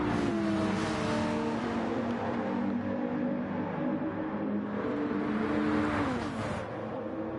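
Race cars roar around Brands Hatch in a racing video game, several engines droning together in a close pack with rising and falling pitch as they shift and accelerate, loud and continuous throughout.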